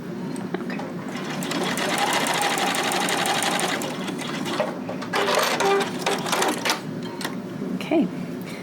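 A sewing machine runs a gusset seam in a steady mechanical whir that goes on for several seconds, then breaks into shorter bursts near the end. It is close and fairly loud, with no voices.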